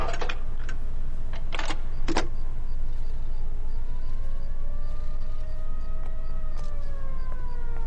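Ambulance siren in the L.A. Noire video game, a wailing rising-and-falling tone over a constant rumbling background, following a few sharp clatters at the start.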